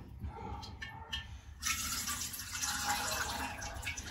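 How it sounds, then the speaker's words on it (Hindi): Water poured into freshly churned homemade butter and ghee, a steady splashing pour that starts abruptly partway through and runs to the end, close by, following some quieter handling sounds. "इसी में पानी डाल दूंगी"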